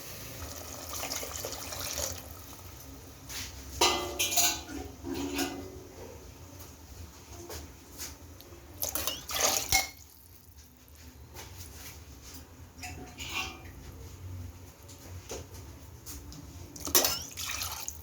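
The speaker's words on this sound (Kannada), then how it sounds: "ನಾಲ್ಕು ಲೋಟದಷ್ಟು ನೀರು ಹಾಕ್ಕೊಂಡಿದ್ದೀನಿ" Four glasses of water are poured into a cooking pot for menthya bhath, giving splashing, gurgling pours in several bursts with brief pauses and a few clinks of the glass, close and fairly quiet.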